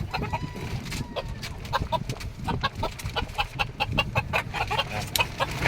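Farm chickens cluck steadily while being fed, a dense run of short calls from several birds close by, with no talk over them.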